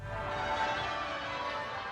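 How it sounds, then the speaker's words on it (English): Church bells of Westminster Abbey ring out in a brief, fairly faint, steady wash of pealing tones with no voices. "The bells of Westminster Abbey rang out"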